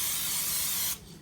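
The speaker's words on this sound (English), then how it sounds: "I'm going to spray it with cooking spray," Cooking spray sprayed into a small preheated pan over medium heat, a single steady close hiss lasting just under a second, then cutting off abruptly.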